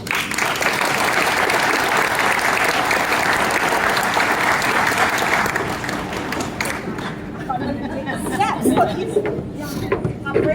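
Audience at a Wallace and Ladmo library card event welcoming Billy Lowry to the stage, sustained loud clapping that fades into crowd chatter and voices.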